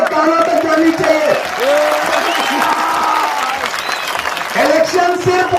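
Applause and cheering from a large crowd at a political rally in Banihal, Jammu and Kashmir, loud and sustained throughout, with a voice audible over it.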